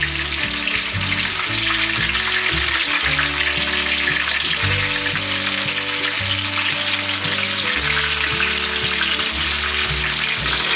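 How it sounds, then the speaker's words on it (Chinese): King oyster mushroom pieces deep-frying in hot oil, a loud, continuous dense sizzle and crackle that stays close and steady throughout, with no voices. "再让它慢慢炸，定型之后再翻面。"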